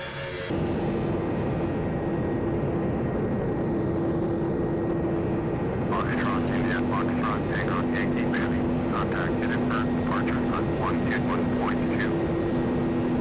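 An Airbus A380 takes off in Flight Simulator X with a steady, loud jet engine roar and rising whine, while a voice talks over the engine noise.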